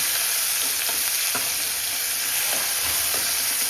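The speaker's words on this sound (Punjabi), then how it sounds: "ਹੁਣ ਆਪਾਂ ਕੱਟੇ ਹੋਏ ਪਿਆਜ਼ ਐਡ ਕਰਕੇ ਤੇ ਇਹਨੂੰ ਸਲੋ ਫਲੇਮ ਤੇ ਬਣਾਵਾਂਗੇ" Chopped onions and spices frying in a pan over a slow flame, a steady loud sizzle with occasional soft stirring clicks, no voices.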